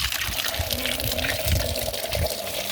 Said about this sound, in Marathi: आणि चप्पल आता मस्त धुणार आहे, चिखल लागला आहे सगळा.